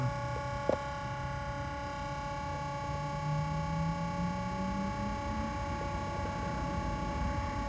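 Constant whirring hum of an electric car fast charger's cooling fans while charging a Nissan Ariya 87 kWh, steady and fairly loud, with a rising tonal whine and a single sharp click early on.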